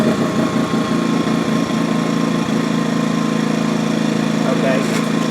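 A Predator 2000 generator engine runs at a steady, loud idle-like drone throughout, with a rough mechanical rumble and faint speech mixed in underneath.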